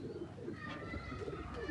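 Soft, low Rampuri pigeon cooing runs throughout, overlapping murmurs from several birds, fairly close, with no talking.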